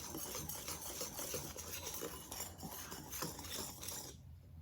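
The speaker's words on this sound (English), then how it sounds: "Going to give these dry ingredients a quick whisk until they're well combined." Dry ingredients for Southern hush puppies, including salt, whisked in a bowl: quiet, rapid metallic clinking and scraping in a steady rhythm, close by, stopping abruptly near the end.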